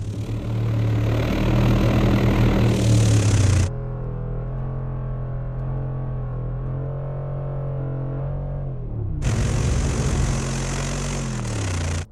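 Two SUVs, a Mercedes G63 AMG and a Range Rover Sport SVR, strain against each other in a muddy tug of war, with loud engine roar and revving that drops to a steady droning hum midway before surging back loud near the end.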